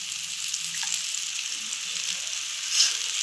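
Oil-based eggplant curry sizzles in hot oil as it is stirred, a steady bright frying hiss with faint scraping underneath and one brief louder crackle near the end.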